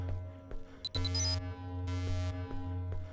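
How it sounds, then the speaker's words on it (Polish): An alarm rings in the Worst Case Z video game, a steady electronic tone that runs throughout with sharp, bright beeping bursts layered on top, loud and close with no talking. "muszę wrócić tam i wyłączyć ten alarm"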